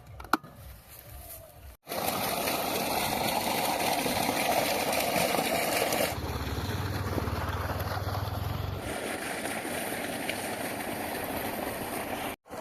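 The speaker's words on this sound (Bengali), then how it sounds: "এখন যাবো বাড়ি, মোটর চালাতে হবে, জল দিতে হবে।" An electric motor pump pumping water into a farm field runs as a loud, steady drone for about ten seconds, its tone shifting slightly partway through, then cuts off abruptly.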